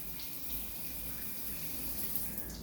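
A push-button shower in a basic public bathroom runs with a steady, moderately distant hiss of falling water and no voices.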